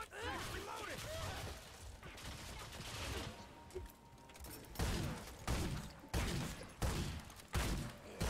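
Gunfire in the Remnant video game: repeated sharp bursts of shots in uneven volleys, loud and dense, with a lull in the middle before several punchy blasts, under occasional talk.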